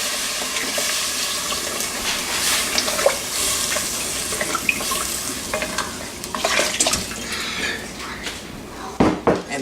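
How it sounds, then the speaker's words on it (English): Water splashes and pours into a pot of rice, about 2 cups, with intermittent stirring and clinking close by, irregular bursts rather than a steady stream. "So let me just add the water to it."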